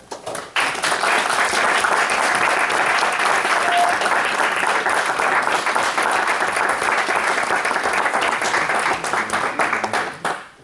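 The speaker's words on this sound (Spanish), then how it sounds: "un fuerte aplauso para Teruca" An audience bursts into loud, sustained applause at the close of an astronomy talk on spectroscopy in astrophysics. The dense clapping fills the room steadily for about ten seconds before tapering off.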